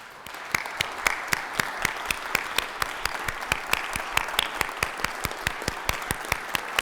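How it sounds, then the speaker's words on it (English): An audience applauds law enforcement officers at an appreciation-day club event, a steady run of crisp hand claps heard from slightly back in the room, even and sustained for several seconds. "give the law enforcement officers and the different law enforcement agencies that protect us every day a round of applause"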